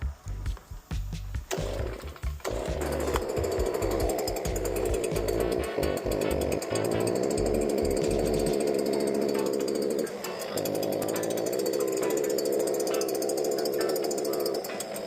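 A STIHL BG86 leaf blower with a fault that keeps it from revving up is pulled a few times, catches, and settles into a loud steady two-stroke drone that briefly dips and recovers, close and continuous.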